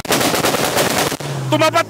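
Sharp popping bangs from a Honda car exhaust at a Honda Day car meet in the Philippines, a rapid cluster of loud close cracks followed by a rumbling engine note and a short revving burst.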